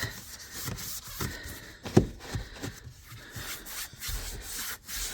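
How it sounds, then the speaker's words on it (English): Small detailing brushes scrub the air vents inside a 2023 Hyundai, a soft, close rubbing and scratching that repeats in short uneven strokes, with a sharper tap partway through. "get my little brushes and get all these vent areas"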